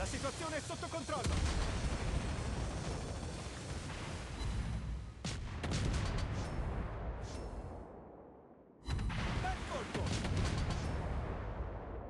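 Warship main guns firing in a naval video game, heavy booming blasts in a busy battle soundscape, with a sharp burst near the middle and another after a brief lull toward the end.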